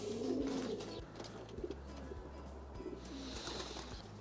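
Old-bird racing pigeons coo softly in a loft being readied for racing, with low, repeated throaty calls and faint chirps against a quiet background.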